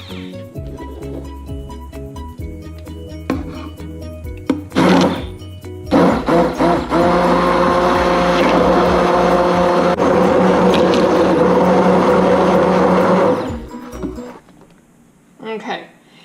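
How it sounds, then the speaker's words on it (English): A handheld immersion blender whirs through a pot of cooked pears for pear butter, a loud steady motor drone with churning lasting several seconds, bracketed by clunks and a brief restart near the end. "I'm going to take this opportunity to use the immersion blender, and we're going to break up those extra pieces"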